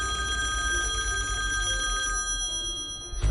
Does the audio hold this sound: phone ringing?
yes